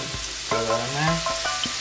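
Mushrooms fry in a pan with a steady hiss, and a few clattering stirs and brief tonal scrapes ring out up close over the brief moment.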